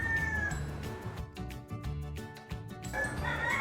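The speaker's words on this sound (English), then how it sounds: "As you can hear, I like to paint to the rhythm of rooster crows." Rooster crowing outdoors in a tropical setting, drawn-out crows rising and falling alongside another bird's calls, moderately near and without talk.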